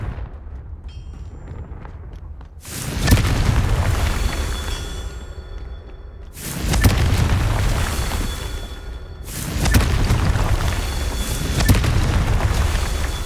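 Confringo blasting spells in Hogwarts Legacy on PS5 go off as three heavy explosions, each a loud booming burst that rumbles and decays for a few seconds before the next.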